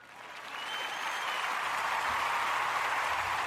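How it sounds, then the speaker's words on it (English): A recorded crowd applause effect plays from a computer, rising over the first second into steady, dense clapping that holds at a moderate level without talk. "Here, get the hand claps for Reggie."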